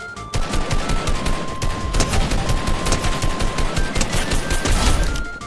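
Rapid bursts of automatic weapon fire rattle almost continuously in a Fortnite Battle Royale match, loud and close, with dense overlapping shots throughout and no talking.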